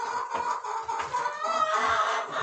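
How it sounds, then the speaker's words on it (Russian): A rooster and six hens cluck continuously close by, a busy overlapping chorus of short clucks with no talking. "из тех вот сейчас семья у меня петушок и 6 курочек"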